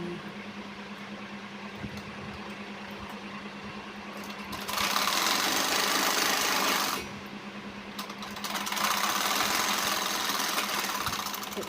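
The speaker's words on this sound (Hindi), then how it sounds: "तो इस तरह से हमने आसन में सिलाई लगा ली है।" A sewing machine stitches the seat seam of a pair of ladies' pants. It runs in two close, steady bursts over a constant low hum, with a quieter gap between them and no voices.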